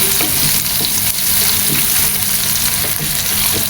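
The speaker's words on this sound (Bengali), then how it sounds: "ভাজতে ভাজতে মাছের কালারটা পরিবর্তন হয়ে গেছে। আমি আর একটু লাল লাল করে ভেজে নিব।" Shrimp fry loudly in a pan for a radish and shrimp dish. The sizzle is dense, continuous and close, with faint stirring scrapes and no talk.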